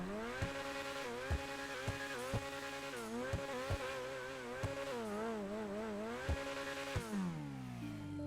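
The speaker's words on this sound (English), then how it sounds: "let's go ahead and rev it up here and do that sound test" A Grotti Bestia GTS in GTA Online revs hard and repeatedly, its engine note rising and falling in pitch, with sharp pops between revs and a final drop in pitch. The sound is continuous and close, with no voices.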